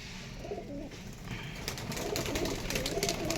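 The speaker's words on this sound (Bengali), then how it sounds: "সব পায়রা ছেড়ে দিলাম।" Freshly released pigeons coo in low, rolling calls that keep going as a soft background murmur, joined by a broad rustle that rises midway, likely wings or movement, with no clear talking.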